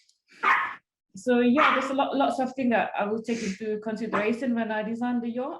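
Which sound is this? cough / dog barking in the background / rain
dog barking in the background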